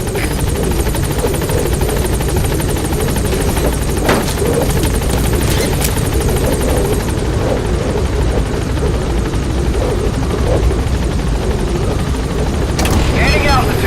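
A helicopter climbs in the Metal Gear Solid V video game, its loud continuous rotor thrum and whine droning steadily throughout with a few faint clicks on top.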